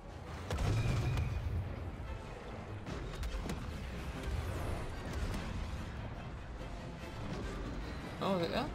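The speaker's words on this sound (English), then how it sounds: "Oh, they are shooting us." Gunfire and artillery blasts in the video game Star Wars Battlefront II during a stormy battle with a walker and anti-air cannons, dull booms and shots over a constant rumbling background, with voices speaking.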